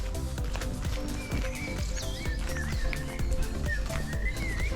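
On a countryside walk among spring trees, a man whistles a short wandering tune in bright repeated phrases, heard over steady footsteps and outdoor rumble.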